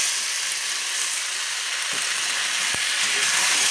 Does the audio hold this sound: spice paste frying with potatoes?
yes